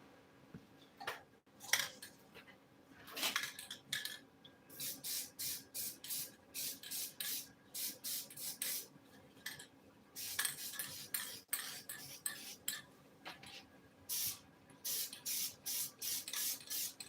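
Short hissing bursts of spray adhesive on a Ford F-100 seat cover during reupholstery, fired in quick repeated pulses with brief gaps, close and moderately loud, with faint handling clatter between sprays.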